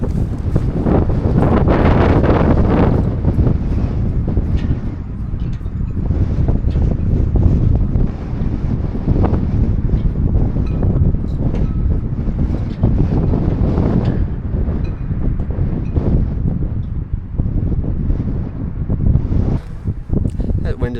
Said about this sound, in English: Wind is ripping my hat off